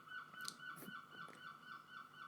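A seagull calls at Disney's Animal Kingdom, a few faint honking squawks rising above a steady background hum of the surroundings, heard at a distance.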